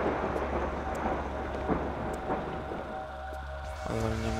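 Thunder and lightning storm in the horror video game Kraven Manor, a steady rumbling wash of rain-like noise with soft, distant thunder swells throughout, no clear sharp crack.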